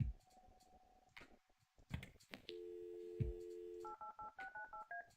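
A room telephone with an external line is dialed in the adventure game Kathy Rain: a few clicks and handling knocks, a steady dial tone, then a quick run of short touch-tone beeps, close and clear with no speech.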